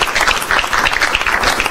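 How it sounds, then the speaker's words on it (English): An audience gives a round of applause after a talk, a loud, dense, steady clapping that fills the whole short stretch with no break. "Another round of applause."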